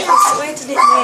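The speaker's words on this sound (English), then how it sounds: "That's our dog. It's the dog." A pet dog gives short, close yips and whimpering barks indoors while a person talks over them.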